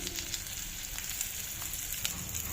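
Steady crackling sizzle of a tempering of chilli powder and green chilli frying in hot oil for a yogurt tadka, even and continuous throughout with no voices.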